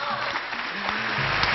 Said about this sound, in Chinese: 掌声鼓励鼓励，好不好？